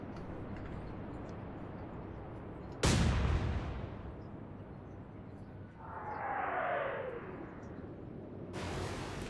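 Naval gunfire in the warship game Atlantic Fleet: a single loud, deep boom that rolls away into a long fading rumble, then a softer whistling sweep of a shell in flight and another blast at the end.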